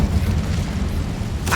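An Incendio fire spell cast in Hogwarts Legacy inside a catacomb, a loud rumbling whoosh of flame with deep sustained roar, ending in a short bright burst.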